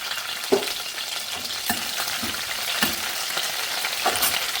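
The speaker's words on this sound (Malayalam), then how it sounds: "ഇനി പാനിൽ വെളിച്ചെണ്ണ ചൂടായിട്ടുണ്ട്. ഇനി ഇതിലേക്ക് പിന്നെ കുറച്ച് കറിവേപ്പിലയും പിന്നെ വറ്റൽമുളകും ഇട്ട് കൊടുക്കാം." Curry leaves and dried red chillies sizzle hard in hot coconut oil in a pan for Kerala-style chicken thoran, a steady close crackle broken by several sharp clatters of stirring.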